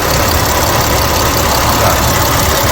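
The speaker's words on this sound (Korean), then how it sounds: "엔진 돌아가는 소리 들리죠?" A car engine idling during an air conditioner gas recharge, a loud, steady, unbroken engine drone close by with no talk over it.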